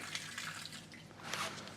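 Water spraying and hissing from a car-wash pressure hose while an E92 BMW M3 is being washed, a steady, close, mid-loud rush that swells slightly toward the end, with no voices.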